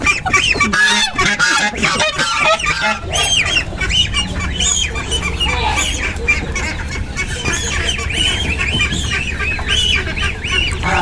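Hens cluck and squawk loudly and continuously, several birds close by, with overlapping calls filling the whole stretch.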